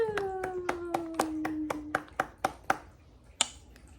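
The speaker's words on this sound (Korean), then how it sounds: "박수!" A parent claps hands at home during a toddler's mealtime, about a dozen sharp claps in a steady rhythm, close and clear, with a sustained sung or spoken vocal tone under the first half.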